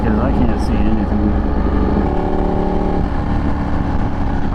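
A Ducati 1199 Panigale motorcycle engine runs loud and close while riding, a dense, throaty drone with rising and shifting pitch as it accelerates, steady from start to finish.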